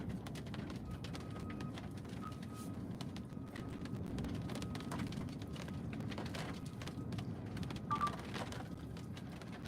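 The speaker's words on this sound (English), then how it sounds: "Here comes the rain." Steady rain pours with strong wind buffeting the microphone during a tornado storm in Saint Augustine, Florida, a dense continuous roar with a few brief louder gusts, and no voices.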